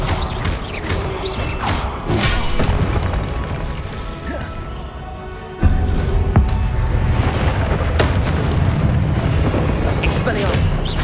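The Expelliarmus spell is cast in the Hogwarts Legacy video game amid clattering mechanical creaks and booming impacts, with a sudden heavy burst midway and a dense, loud rumble throughout.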